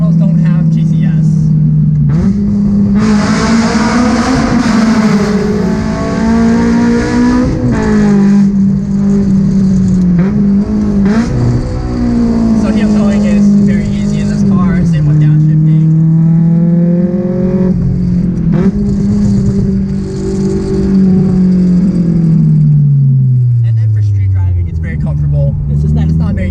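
A Honda S2000 CR fitted with an R1000 exhaust growls loudly on the move, its engine pitch climbing and dropping through repeated revs and gear changes, with a voice talking over it throughout.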